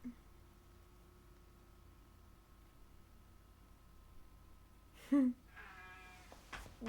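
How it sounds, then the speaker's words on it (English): A pet cat meows a couple of times close by near the end, following a long stretch of quiet room hum, with a faint voice heard briefly. "Cute kitty cat."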